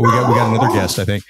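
A dog barks and yips loudly close by at home during an interview, overlapping someone speaking.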